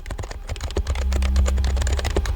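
Rapid, steady typing on a Happy Hacking mechanical keyboard: dense clicky keystrokes close up, in a continuous stream over a low hum.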